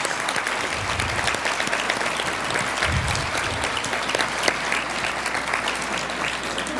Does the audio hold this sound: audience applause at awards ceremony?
yes